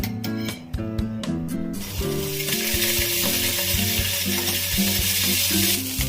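A spoonful of butter hisses and sizzles loudly in a hot pan, a steady crackling fry that swells after an opening clink of utensils, with music underneath.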